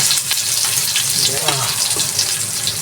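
Onion and garlic sautéing in oil for chicken bistek, a dense close sizzle and crackle with soft stirring scrapes underneath.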